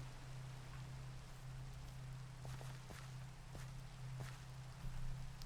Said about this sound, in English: Oh, look at this, it's raining.